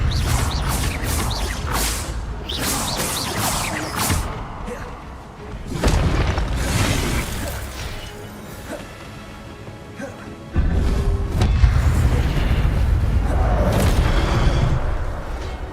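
Spell casts in Hogwarts Legacy, with repeated Expelliarmus, Accio and Levioso, fire off as a steady stream of loud booms, whooshes and crashes. Brief bursts and sharp impacts break over a continuous, busy game backdrop.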